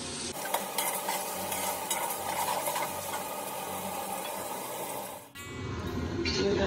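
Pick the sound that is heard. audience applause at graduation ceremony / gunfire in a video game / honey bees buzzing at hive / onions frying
onions frying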